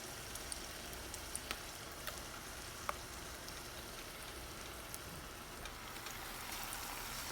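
Palak spinach leaf pakoda frying in oil, a steady soft sizzle and crackle with scattered small pops, fairly faint and close, no voices.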